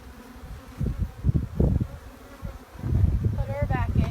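Honeybees swarm around an open nuc hive on a farm, a dense buzzing hum close by that rises and wavers, with brief bursts of louder wingbeats and some faint voices in the background.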